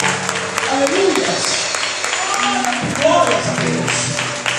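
A church congregation at a Father's Day service applauds, sustained clapping throughout with voices and musical tones mixed in underneath.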